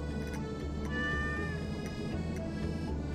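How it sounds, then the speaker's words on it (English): A cat in the farming game Stardew Valley meows over soft background music, giving several clear, tonal mews close up in the mix. "You see this cat here?"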